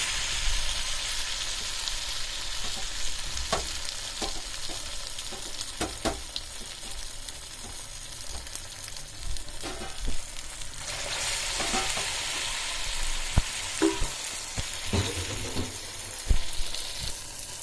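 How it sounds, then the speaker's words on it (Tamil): Vegetable cutlets fry in hot oil with a continuous crackling sizzle, punctuated by sharper pops and spatters, close and fairly loud. "இப்போ பார்த்தீங்கன்னா நல்லா பொரியிற சத்தம் கேட்குது."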